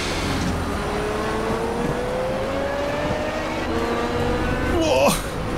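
A Pagani Huayra BC accelerating on the Road America circuit in the Project CARS video game. The engine holds a steady, rising drone with a rising whine, ending in a brief tire chirp.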